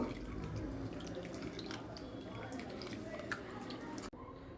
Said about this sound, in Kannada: ಅದನ್ನು ಈ ರೀತಿ ನೀಟಾಗಿ ತೊಳ್ಕೊಬೇಕು